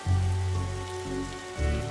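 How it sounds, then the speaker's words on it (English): Soft rain ambience from the video game The Darkside Detective, a quiet, steady patter beneath sustained tonal music, with no one talking. "But it's raining outside."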